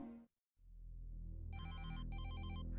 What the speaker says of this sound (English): the sound of a ringing phone, which shouldn't be here